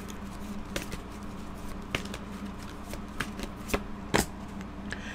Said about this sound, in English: And then pull out one more card for you